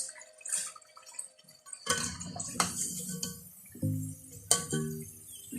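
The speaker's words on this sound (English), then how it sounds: "I'm just going to strain them into something that can let the oil to get out." Fried potato bhajia being strained to drain off the oil, with clinks of the fritters and utensils against a metal strainer and dripping oil, sharp knocks near the middle and the end.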